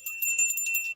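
A hand bell rings at a stage show, one bright, jingling, high-pitched ring lasting about a second, close and clear.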